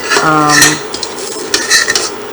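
Soy curls cook in a pan as a utensil stirs and scrapes them, with a sharp metallic clang at the start followed by light sizzling and a few short scrapes, close and loud.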